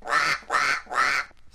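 A parrot imitating a duck, giving three loud, evenly spaced nasal quacks close up, followed by a faint trailing sound.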